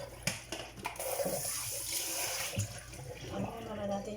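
Raw chicken is washed under a running kitchen tap, water splashing steadily and close with a few clatters, under a faint voice.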